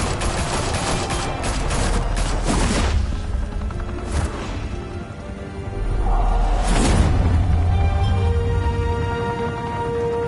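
Video game gunfire in bursts, with several loud sharp shots and a broad rumbling blast around the middle, ringing out close and alone over a steady noisy backdrop.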